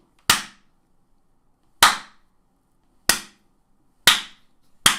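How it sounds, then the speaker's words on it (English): A deliberate slow clap, five sharp, isolated hand claps spaced over a second apart with silence between them, close and dry with no talk. "Slow clap at home, everybody."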